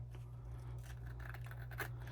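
Scissors cut fabric in one long line, a soft, close, steady snipping and scraping over a constant low hum, with no talk.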